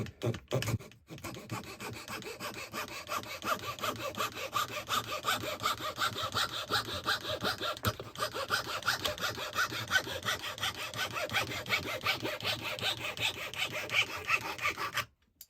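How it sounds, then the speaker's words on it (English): A fine-bladed hand saw from a Hermes tool kit cuts through wood in steady, rhythmic back-and-forth strokes. The rasping is close, fairly loud and continuous for about fifteen seconds, with no voices. "Okay, first let's try a saw. We'll try a fine saw on some of this wood here."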